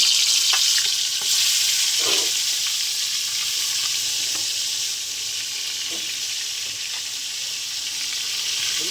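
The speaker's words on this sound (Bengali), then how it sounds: "তো তেলের মধ্যে আমরা একটু নুন ফেলে দিলাম, তার মাছগুলো ভেজে নেব।" Fish frying in salted oil in a wok, with a loud, continuous, close sizzle and hiss broken by a few small pops and stirring knocks. No one speaks.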